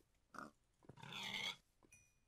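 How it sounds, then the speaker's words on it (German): Pig from the video game Minecraft grunts twice, a short low snort and then a longer, fuller grunt, faint and alone against near silence. "Schwein."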